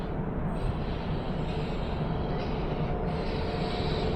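A WAP-7 electric locomotive hauls the Gandhidham–Nagercoil express into the station, a steady, loud rumble of rolling wheels and carriages continuing throughout without a break.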